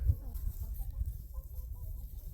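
Chickens at a hoop-house chicken coop cluck softly in a scattered, irregular series of low calls, fairly near, with rustling and faint background noise.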